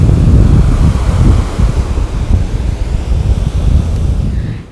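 Strong wind gusting across a morning beach on the Azov Sea at Schastlyvtseve, loud rumbling buffets over the rush of sea waves, continuous throughout.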